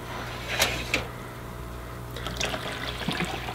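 Water pours and gurgles into the reserve tanks of an aquarium filter during cleaning, a steady bubbling trickle with a couple of sharper splashes near the start and a low hum beneath.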